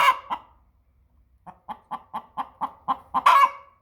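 Chickens from a backyard flock clucking: a couple of clucks, a short pause, then a rapid evenly spaced run of about eight clucks ending in a louder squawk, close and clear with no talking.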